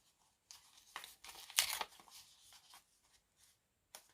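A small paper envelope being opened at close range, with quiet crinkling and a brief sharper tearing burst in the middle, then soft rustling and one last faint crackle.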